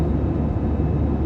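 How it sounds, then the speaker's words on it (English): Airliner approaching the runway on a flight out of KLIA2, heard as a loud, steady low engine roar that fills the cabin without a break and with no voices. "As the plane approached the runway,"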